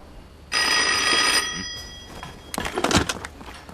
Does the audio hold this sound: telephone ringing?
yes